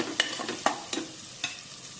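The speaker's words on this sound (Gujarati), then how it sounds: "તો હવે આની અંદર આપણે મસાલા બધા મિક્સ કરી દઈએ." A spoon stirs spices into a cooked tomato and onion gravy for veg pulao. There are several distinct scraping strokes in an uneven rhythm over a soft sizzle, close up, with no talking.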